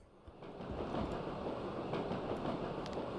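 Train carriage rolling along rails in the horror video game Echo Night, a steady dense rumble with faint rhythmic clatter, close and continuous throughout, with no voices.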